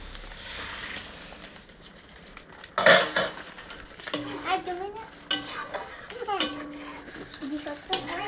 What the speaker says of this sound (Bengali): ডালটা আগে সিদ্ধ করে রেখেছিলাম, এখন ডালটা ঢেলে দিব।